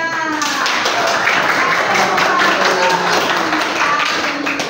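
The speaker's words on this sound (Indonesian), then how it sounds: "kita beri aplaus ya untuk kelompok 3" Classroom applause for a student group after their presentation, a steady wash of many hands clapping at close range, with a voice speaking over it.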